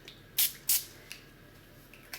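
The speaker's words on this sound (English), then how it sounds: "just give them a little spray on the top from a height" Fry Light 1 cal low fat cooking spray is spritzed from a height onto the tops of unbaked scones, two short hissing bursts close together, followed by faint clicks and a small final puff.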